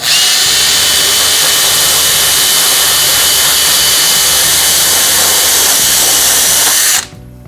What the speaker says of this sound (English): I've got this little Dremel bit, and it's basically a stone